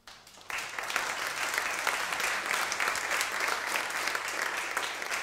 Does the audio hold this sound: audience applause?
yes